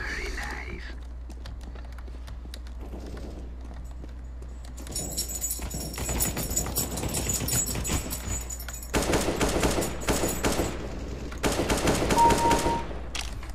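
Rapid gunfire from a CS:GO deathmatch game, with repeated bursts of automatic shots building in density over the second half, mixed with a player talking over the game sounds.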